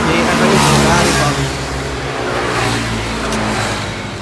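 Engine revving from a motorcycle fitted with an FT Pro exhaust, loud and close in a rough throttle blip that swells and eases, with a voice talking over it.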